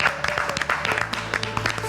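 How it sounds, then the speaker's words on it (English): Studio audience at a live TV show giving a round of applause, a dense wash of clapping that stays steady and loud for the whole short stretch, with no talking over it. "Can I get another resounding round of applause?"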